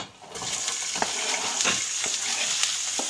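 Onions and garlic frying in a little oil on the bottom of a pan give off a steady, close sizzling hiss with faint scraping ticks, no voices over it.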